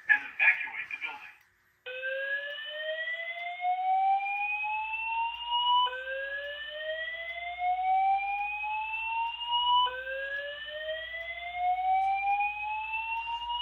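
A building fire alarm voice evacuation system under test sounds a repeating rising sweep tone, three identical whooping cycles of about four seconds each, loud and steady after a brief voice message.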